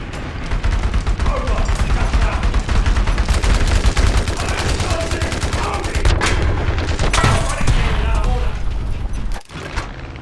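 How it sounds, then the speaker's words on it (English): In the War Thunder Mobile video game, guns fire at an enemy bomber in loud, rapid bursts of closely spaced shots that continue almost without a break, with a few heavier booms and a short lull near the end. "I intercept this enemy bomber, firing several rounds into it"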